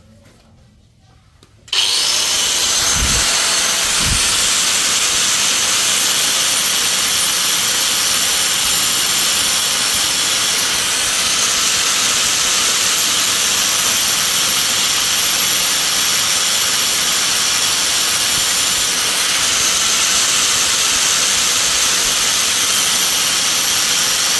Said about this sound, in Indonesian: Terakhir kita akan memotong sisa dari konblok beton ya, menggunakan mata diamond cutting wheel yang seperti ini.